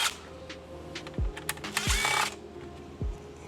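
A driver backs out T15 screws from Chevrolet Silverado dash trim, giving a few short, close ratcheting clicks and light scraping bursts spaced about a second apart.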